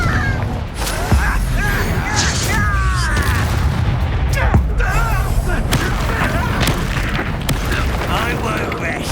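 Confringo fire-blast spells from Hogwarts Legacy erupt in booming bursts amid a busy, loud combat mix of whooshing magic and impacts, with speech heard between the blasts.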